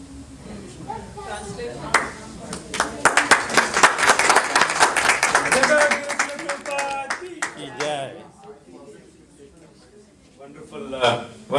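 Clapping at a Srimad Bhagavatham session at the Bensalem Cultural Center, a round of applause for children that swells from scattered claps to a dense burst and then thins out, with voices talking around it.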